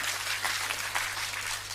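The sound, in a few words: congregation clapping hands for God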